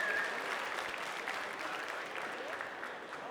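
An audience at a Salers cattle show claps in sustained, fairly distant applause that gradually tapers, with no talk over it.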